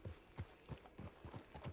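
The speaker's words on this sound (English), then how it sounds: "Get on the horse when you're ready." Horse hooves clip-clop at a steady walking rhythm in the video game Red Dead Online, fairly quiet and even, with no talk over them.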